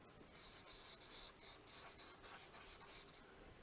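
A marker or chalk draws on a board in a series of short, faint scratching strokes with a steady rhythm, quiet and alone.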